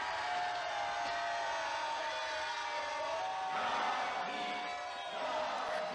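A large crowd in the anime Mobile Suit Gundam roaring and cheering in the distance, a dense swell of many voices that rises midway, with some music or tones mixed in.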